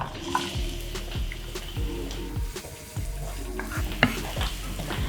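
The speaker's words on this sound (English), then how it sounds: "I just need a little bit of oil in my pan here, and some garlic," Garlic and onion fry in a little oil in a pan for a Chinese-style filling, a close, steady sizzle broken by stirring scrapes and clicks, with soft music playing underneath.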